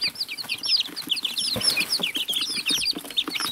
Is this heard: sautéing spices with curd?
no